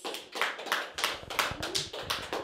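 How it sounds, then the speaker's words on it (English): A small audience at a school TV show event gives a round of applause, with scattered, uneven hand claps at close to moderate range. "Can we have another round of applause off our audience?"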